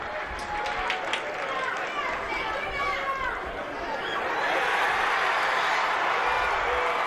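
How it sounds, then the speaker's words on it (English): Crookston fans at a high school football section title game: a dense, loud crowd roar with cheering and chatter, swelling and steadying toward the end. "Crookston fans are cheering"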